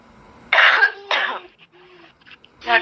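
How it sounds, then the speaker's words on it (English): A woman coughs and clears her throat, with two loud harsh bursts close to the microphone, then quieter rough breaths and a further cough at the end, with no speech. "Your wife is coughing now."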